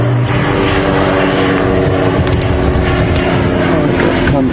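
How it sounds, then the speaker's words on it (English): A Cessna Grand Caravan propeller airplane passing over an airstrip at a game reserve, a loud, steady engine and propeller drone filling the whole stretch without any break. "there's an airplane coming past, so I may need to get off the airstrip."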